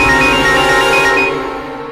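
A mobile phone ringtone plays loudly and close, a bright repeating melodic pattern over a dense musical backing that fades out near the end, with no talk.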